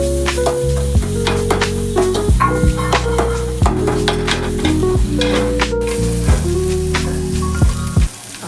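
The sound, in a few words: mixing samosa filling spices in a pan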